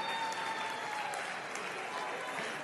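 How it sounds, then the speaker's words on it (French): Steady audience applause fills a talent show semi-final hall, a dense wash of clapping at constant level throughout with a faint background tone and no speech on top. "Est-ce qu'on peut applaudir pour aider l'ambassadrice Rosia à se rasseoir, s'il vous plaît?"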